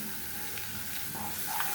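Water poured into turmeric and chili powder sizzling in a pan, giving a brief, steady hiss with faint stirring scrapes, close and alone.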